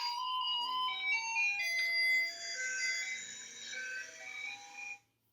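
Garbage truck in Taiwan playing its jingle, an electronic ice-cream-truck-like melody in bright repeating tones. It is loud and steady for about five seconds, then cuts off abruptly.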